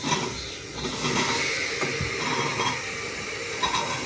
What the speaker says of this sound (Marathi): बघा पूर्ण भाज्या मी ह्याच्यामध्ये घालते आणि 1-2 मिनटासाठी परत तेलामध्ये हे सगळं परतून घेणार आहे मी।